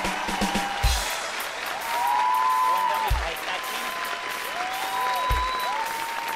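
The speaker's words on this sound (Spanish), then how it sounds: "¡Un aplauso, hombre!" A studio audience on a Colombian TV talk show breaks into loud, sustained applause that swells and holds. Excited voices call out over it, and short whooping sound effects cut in several times.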